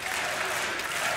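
Crowd applauding at a DreamHack Masters Malmö CS:GO match between GODSENT and NiP, a steady, dense roar of clapping filling the arena, brief and even.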